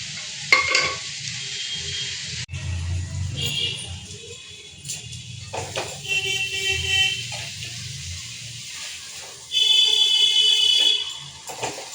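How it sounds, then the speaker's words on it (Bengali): Cooked dal is stirred and mashed in a pot with bursts of scraping and churning, separated by short pauses, plus a brief faint beeping tone. "গোপালকে ডালটা একটু ঘুটে নিই"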